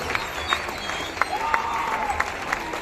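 Audience applause at a public program in Patna: a dense crackle of hands with a few sharper claps standing out, steady and moderately loud, with a voice or crowd murmur faintly mixed in.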